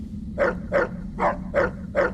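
A pack of mutated dogs in Fallout: New Vegas bark five times in a steady rhythm, each bark loud and close over a low background hum.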